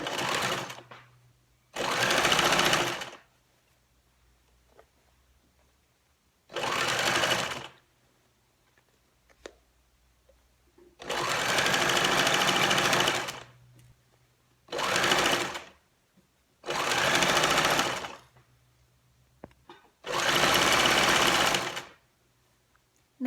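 Sewing machine stitching fabric for a homemade chef hat, running in seven loud bursts of varying length separated by quiet pauses, close up with no talk.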